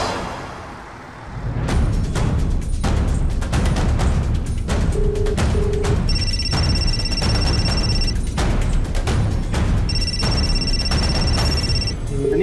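An electronic phone ring sounds in two repeated bursts, steady and high-pitched, over a busy background of sharp clicks and bangs.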